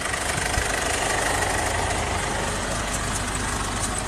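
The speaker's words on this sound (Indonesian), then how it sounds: "Terdengar suara mesinnya makin kering." A Ford Everest's engine idles steadily and close, giving a continuous rough, dry rumble with no change in pace after an intake cleaning service.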